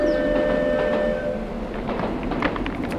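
A passing train sounds its whistle in steady tones over the rolling rumble and clatter of the railcars, heard from nearby with no talking.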